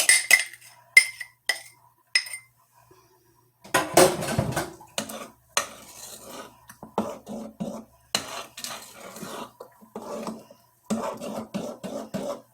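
Spoon or spatula clinking and scraping against a bowl while stirring a mixture into Texas sheet cake batter, in short irregular bursts separated by pauses, close and fairly clear.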